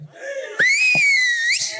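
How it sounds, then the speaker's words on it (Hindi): At a song launch event in Mumbai, a person gives a loud, shrill whistle that holds a steady pitch and briefly rises at the end, preceded by a short breathy attempt. "मैं खुद पहली बार मैं खुद सीटियां बजा रहा हूँ सर यहाँ पे"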